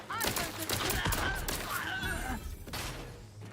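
Gunfire from a weapon in the video game Outer Worlds 2, a dense rapid volley of loud shots filling the scene with some faint voice or game sound mixed in.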